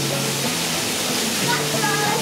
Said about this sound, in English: Oh man, check that waterfall out.